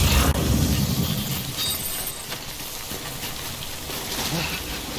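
Steady video-game rain pours down in a continuous hiss, loud at first and then settling into an even, drumming wash.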